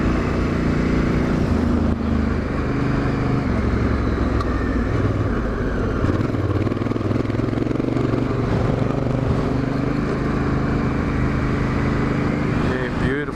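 Dirt bike riding through sand on a trail in the Hunter Valley, its engine droning loud and steady throughout with broadband wind and rumble, no pauses or gaps.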